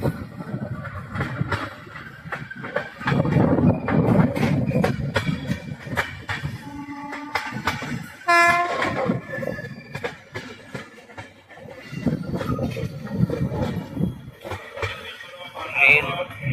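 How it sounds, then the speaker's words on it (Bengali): A delayed passenger train rolls into Barsoi station on the Kolkata to Hasimara route, its steady rumble and rail noise running throughout, with a brief squeal or horn-like tone midway and people talking over it. "ট্রেন বরসই স্টেশনে ঢুকলো, তার প্রায় 3 ঘন্টা 40 মিনিট লেটে।"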